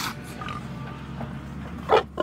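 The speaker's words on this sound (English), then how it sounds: "Feeder pigs." Feeder pigs on a farm grunt quietly at a distance, with two louder, closer grunts near the end over low background noise.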